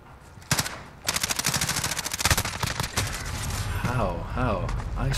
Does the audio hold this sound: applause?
no